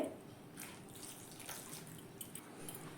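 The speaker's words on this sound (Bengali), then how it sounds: "জলটা কিন্তু অল্প অল্প করে দিয়ে এইভাবে ভালো করে মিশিয়ে নিতে হবে" Water trickles a little at a time into gram flour batter for egg and potato chops, a soft steady pouring and splashing close by with faint dripping, no voices.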